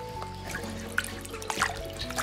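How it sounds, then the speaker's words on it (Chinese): Blanched pig trotters rinsed in water, soft trickling and sloshing with small splashes and faint clinks, close and quiet. "放在水中清洗干净备用。"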